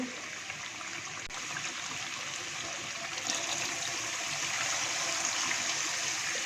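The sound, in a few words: water poured into cooking pot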